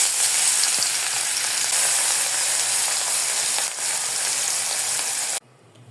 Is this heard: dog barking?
no